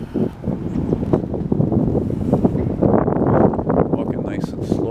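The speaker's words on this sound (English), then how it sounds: "the wind's coming here" Wind gusts buffet the microphone on an early-morning outdoor walk in Old Montreal, a loud low rumbling that runs steadily under a voice.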